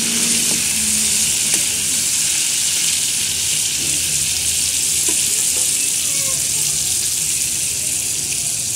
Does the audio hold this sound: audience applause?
no